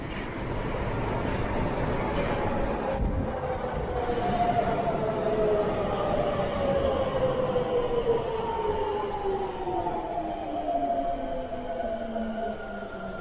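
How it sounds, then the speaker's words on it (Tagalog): A train rumbles past at close range, its loud continuous roar carrying gliding, shifting tones as wheels grind on the rails, steady throughout with no voices. "Ayun ang train."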